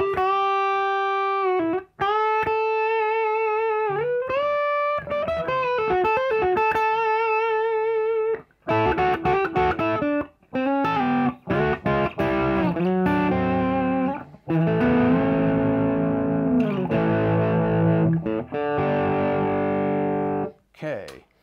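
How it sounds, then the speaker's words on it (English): A 2021 Gibson SG Kirk Douglas Signature electric guitar played with overdrive, sustained notes and bends giving way to gritty chords and runs, loud and close, with short pauses between phrases. "let's hear a little overdrive"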